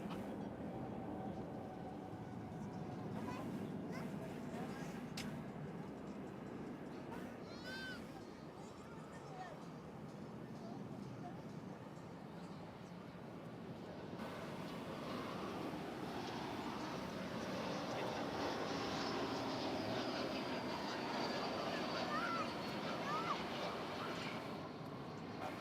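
An airliner takes off from DFW Airport bound for Doha, its engines a broad distant roar that swells and holds steady, with faint radio chatter and talk in the background.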